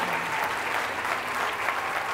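A church congregation breaks into applause during a sermon, a soft, even wash of many hands clapping together that sounds somewhat distant and holds steady throughout.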